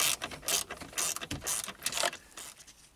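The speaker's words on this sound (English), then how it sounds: "using a 7mm socket with a 1/4-inch ratchet, we'll just go ahead and loosen these up" Quarter-inch ratchet turning a 7mm socket to loosen screws, giving quick bursts of close, crisp clicking in an uneven rhythm with short pauses between strokes.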